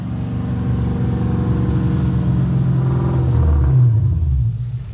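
V8 car with a Coyote 5.0 engine swap rumbling loudly and close, with a throaty rev swelling and then dropping back toward the end; no talking.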